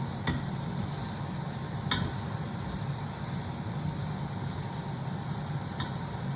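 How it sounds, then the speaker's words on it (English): Continuous sizzle of steak frying in a hot pan, pressed down with a spatula, under a low rumbling hum, with a few scattered sharp clicks. "So you can see it's like sizzling now."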